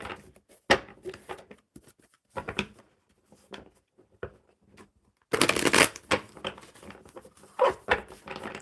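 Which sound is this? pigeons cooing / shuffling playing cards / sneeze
shuffling playing cards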